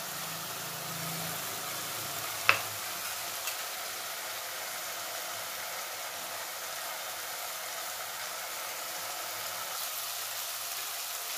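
Hot oil sizzling steadily in a cooking pan for a home-style sabji, a soft, constant hiss held at an even level throughout, with one brief click near the start and no talk.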